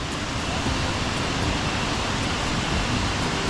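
Water let out from an opened upstream dam rushes downstream as a dense, steady roar of broadband noise, loud and close, with no voices over it.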